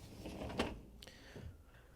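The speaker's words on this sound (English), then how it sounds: "Once you have the door open, we can pull the lower rack out." Lower rack of a Whirlpool/KitchenAid/Maytag dishwasher rolls out on its rails with a short scraping slide and a small clack near the middle, close and moderately loud, with no voices.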